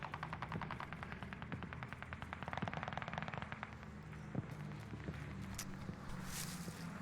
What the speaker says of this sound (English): They're getting shot at up here from somewhere.